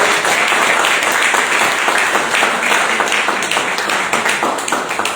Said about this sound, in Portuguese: Você pode dar uma salva de palmas mais forte?